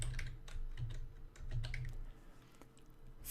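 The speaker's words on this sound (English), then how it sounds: "and just type in Pope Francis." Typing on a computer keyboard to enter a search, a quick run of close clicking keystrokes with brief pauses, heard alone without any voices.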